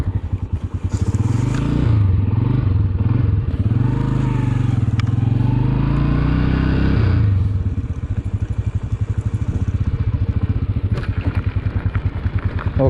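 A motorcycle is ridden near Bam citadel in Iran, its engine thumping loudly and close throughout, with rattling and scraping as it rolls over rough ground.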